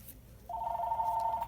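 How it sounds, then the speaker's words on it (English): A telephone bell begins ringing partway through, a steady close trill that continues to the end over quiet room tone during a budget journal craft session. "Excuse the phone."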